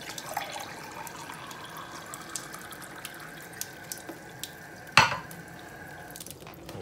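Steady running tap water flowing through a Kangen water ionizer machine, with a soft hiss and trickle, a sharp clunk near the end, otherwise no voices.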